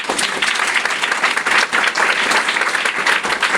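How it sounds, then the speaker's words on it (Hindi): A meeting audience claps for first-time attendees, a dense, steady round of applause sustained and fairly loud throughout, with no voices over it. "पहली बार जो पहली बार आए हैं, पहली बार, फर्स्ट टाइम, ओके, उन लोगों के लिए ताली देते हैं।"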